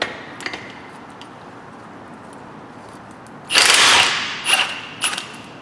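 A wrench spins a 19mm nut off the front coil spring strut of a Toyota Avensis: a loud burst of rapid ratcheting about half a second long, then a few shorter metallic clicks and rattles against quiet background.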